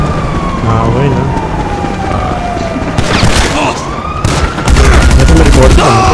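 Gunfire in the video game GTA Online during a deathmatch, loud bursts of rapid shots over a wailing siren and game noise, with dense crackling volleys toward the end.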